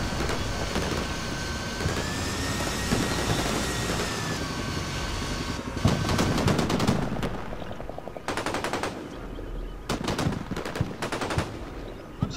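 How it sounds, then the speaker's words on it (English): Sustained machine-gun and rifle fire rattles through infantry firefights in the war game Combat Mission: Shock Force, with long rolling bursts, staccato volleys and a droning engine or aircraft beneath, moderately loud throughout. "So multiple firefights, multiple infantry contacts on either side"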